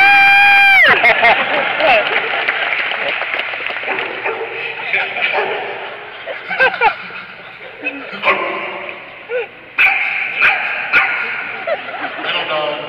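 A voice actor imitates a small dog and a big dog barking in front of a live panel audience, giving a run of yips, whimpers and deeper woofs, loud and close, with crowd noise behind.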